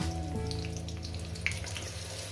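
Green chilies frying in hot oil in a pan, a steady close crackling sizzle throughout with a hum of kitchen tones underneath and one sharp pop midway.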